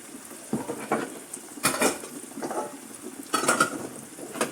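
Spoon or spatula scraping and clinking against a metal tempering pan while turmeric and coriander-cumin powder are stirred in, a few short bursts of metallic scraping over a faint background sizzle.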